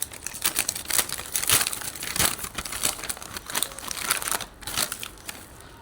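A plastic packet of Bombay Sweets potato mash mix (aloo bhorta) is cut open and handled, giving steady crinkling and rustling with a few sharper crackles, close up and fairly loud, with no talking.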